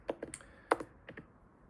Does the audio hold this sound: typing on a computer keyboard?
yes